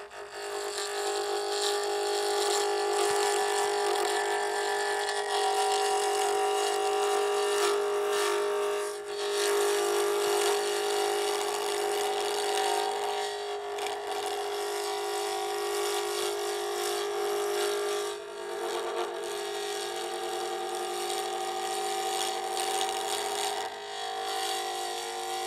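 Steady high-pitched whine of a lathe turning a stone pen blank with a negative rake cutter, a continuous grinding, scraping hiss that holds nearly unbroken throughout with only brief dips.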